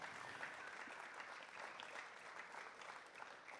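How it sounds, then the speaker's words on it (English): A crowd claps steadily for a few seconds, a dense, even patter of applause with no pauses. "give a round of applause to all our loving mothers"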